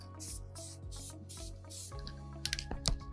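Short bursts of spray paint hiss onto a Lego model, several quick strokes in a row, close and moderately loud, with faint clicks toward the end.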